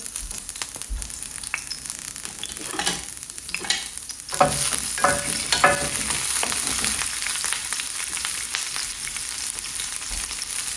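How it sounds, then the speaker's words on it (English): Garlic scapes sautéing in a pan, a steady sizzle that grows louder midway as they are stirred, with scattered scraping and clatter, no voices. "So let's go in with the scapes. Give those a quick little saute."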